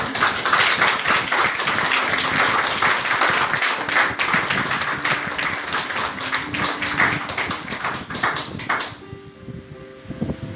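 Loud, sustained audience applause at a church service, dense clapping that holds steady for several seconds and then cuts off abruptly, leaving a faint low hum.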